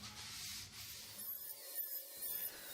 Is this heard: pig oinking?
no